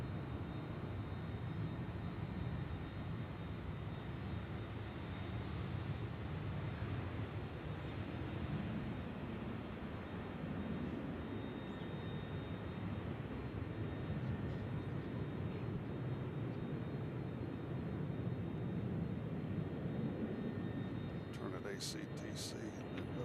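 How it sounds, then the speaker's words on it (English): WestJet airliner taxiing at Nashville International Airport, a steady broad engine rumble and whine held at constant level throughout, heard from a distance outdoors without a clear rise or fade. "WestJet has wasted no time on their taxi."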